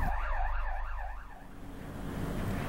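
A fire engine siren wails in a rising and falling pattern, loud and continuous over the low rumble of road traffic, with a few quick sweeps before settling into a steady drone.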